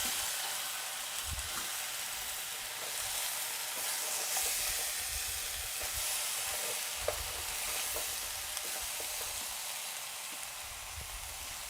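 Tomato mixture sizzling and cooking down in a pan, a steady close frying hiss throughout with occasional stirring scrapes and small pops, no talking.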